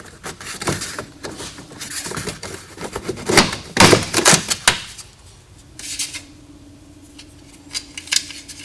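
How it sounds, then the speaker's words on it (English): An inner trim piece comes off a 1981 El Camino door in a run of close, sharp plastic clicks, snaps and scrapes, busiest in the first half, then sparser knocks over a faint steady hum. "Now I'm going to remove my inner trim piece"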